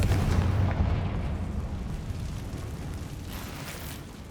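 A Confringo fire spell detonating in Hogwarts Legacy, heard as a dense, rumbling blast with heavy low-end roar at the start that slowly fades into a long, steady tail; no voices.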